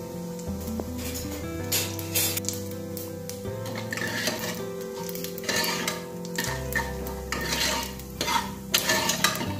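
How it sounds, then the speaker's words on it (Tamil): Mustard seeds, cumin and urad dal crackling in hot oil for a sambar tempering, a continuous sizzle under stirring, with bright pops and spoon-on-pan clinks scattered throughout, close and without voices. "இப்ப நம்ம இதுல கடுகு சேர்த்துக்கலாம்"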